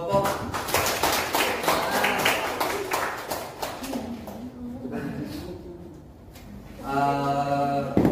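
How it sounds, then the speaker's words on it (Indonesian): Classroom of students clapping for two student groups: a loud burst of many hands that fades out after about four seconds, then a quieter gap and a voice talking at the end. "Yuk, tepuk tangan untuk kedua kelompok."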